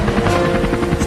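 Comedy sound effect of a helicopter flying, with a loud, close, continuous rotor chop filling the short moment.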